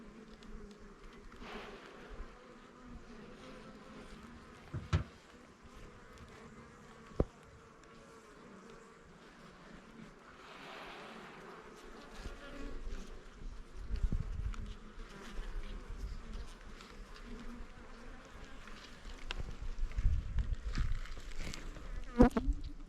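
Bees buzz steadily throughout a hive inspection in a pine forest, a dense close drone with a few sharp knocks and louder swells near the end, with no talking.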